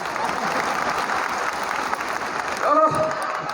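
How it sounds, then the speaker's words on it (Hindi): A crowd applauds steadily, a dense patter of clapping that carries on throughout, with a brief voice rising over it near the end. "एक बार जोरदार तालियां हो बजाओ"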